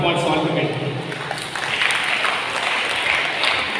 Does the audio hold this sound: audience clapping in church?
yes